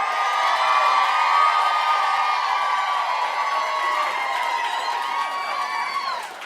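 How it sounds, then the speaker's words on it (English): A studio audience cheers, whoops and shouts steadily for several seconds, loud and close, with a dense crowd roar that tapers slightly toward the end. "Let's give me some applause."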